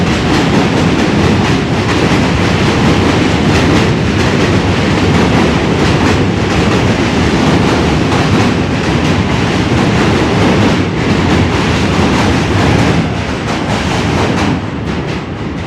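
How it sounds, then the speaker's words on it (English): An Astoria-bound N subway train rushes past close by near the Manhattan Bridge in New York City, loud and continuous, with rumbling wheels and rhythmic clickety-clack over the rails. "An Astoria-bound N train just passed us."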